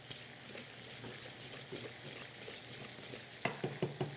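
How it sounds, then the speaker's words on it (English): Butter is whisked into a pan of garlic with a soft, steady stirring scrape over a low background hiss, then a few sharper utensil clinks against the pan near the end, with no talk. "I'm going to add to those still another tablespoon of butter. Just get it whisked in."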